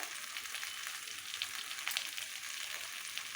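Vegetables and spices with a little red chili powder fry in a pan, giving a continuous close sizzling hiss with a few brief crackles.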